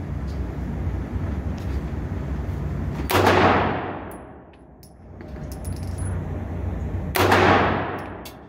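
Two loud shots from an AP5-M pistol about four seconds apart, each a sharp crack with a ringing decay, against steady background noise at an indoor range.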